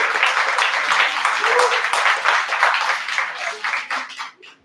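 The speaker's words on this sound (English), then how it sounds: "Let's give them a round of applause," A crowd at a community music event breaks into warm, dense applause with cheering voices, sustained for several seconds before tapering off.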